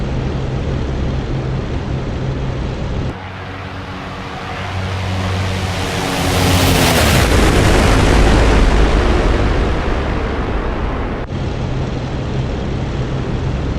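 A loud, sustained roar swells into a deep booming bomb blast in a flight simulator game that rumbles on and slowly fades, with steady aircraft engine drone before and after.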